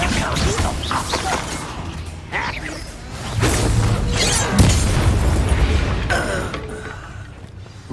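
A Confringo fire spell is cast in Hogwarts Legacy, bringing loud booming blasts, whooshes and creaking, crashing debris amid battle noise, with a heavy hit near the middle and a softer tail.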